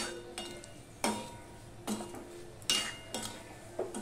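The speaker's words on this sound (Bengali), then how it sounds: "এবার ভেন্ডির সাথে আমি আরেকটুখানি ভেজে নিচ্ছি" Okra (bhindi) fries in a pan while a utensil stirs it, sending four or five sharp metallic scrapes and clanks over a low background sizzle, no talking.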